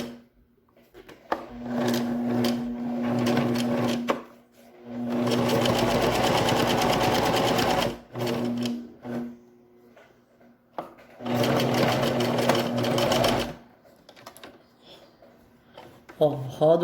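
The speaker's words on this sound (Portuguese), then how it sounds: "vou costurar o outro lado pra vocês verem agora" A domestic sewing machine stitches fabric in three long loud runs separated by brief pauses, with small clicks and handling sounds in between, heard up close.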